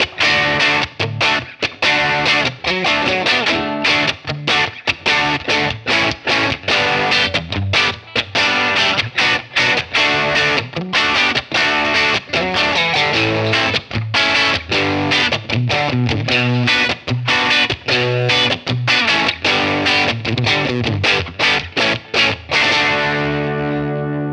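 Heavily overdriven electric guitar through a Crazy Tube Circuits Falcon pedal into Alnico P12 impulse responses, playing chunky rhythmic chords, loud and continuous, with a crunchy distorted tone that rings out at the end.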